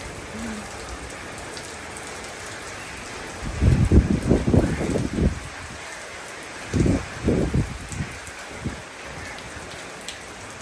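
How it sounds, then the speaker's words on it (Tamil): Heavy daytime rain falling steadily in Jaffna, Sri Lanka, a dense hiss of drops on surfaces with louder surging bursts partway through, close and continuous with no voices. "நல்ல மழை இன்றைக்கி பகல்லையே பெய்யுது"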